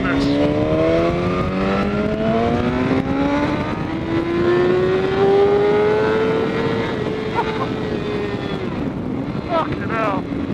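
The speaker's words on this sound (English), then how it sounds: "Let's give her a real gunning from first." BMW S1000RR motorcycle accelerating hard in first gear on a road ride, its engine note climbing steadily in pitch for several seconds, loud and close under heavy wind rush, then briefly shifting tone near the end.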